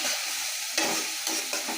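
Coriander and turmeric powder sauté in hot oil with a close, steady sizzle, broken by a few scraping stirs of a spoon. No speech.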